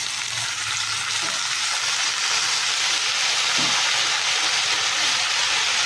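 Fenugreek leaves for methi bhaji, seasoned with crushed green chilli and salt, fry and sizzle steadily in a pan on a home stove, with brief scraping as a spatula stirs them; no one speaks.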